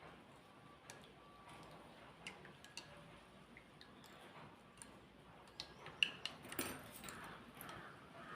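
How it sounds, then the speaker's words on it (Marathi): A spoon stirs saffron strands into warm milk in a small bowl, making faint scattered clinks and ticks against the sides that get a little busier toward the end. "याच्यात केसरच्या चार पाच कांड्या टाकूया आणि ते हलवून घेऊया व्यवस्थित"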